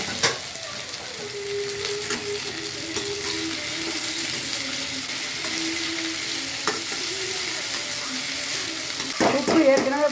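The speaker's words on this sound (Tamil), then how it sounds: "இப்போ இதை நல்லா வதக்கிடலாம்" Onions, garlic, curry leaves and ivy gourd sauté in a pan, with a continuous close sizzle and occasional scraping stirs throughout and a faint voice now and then.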